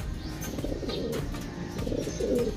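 Pigeons, racing birds being released, cooing and chirping in soft repeated calls over a low background murmur, with no one speaking.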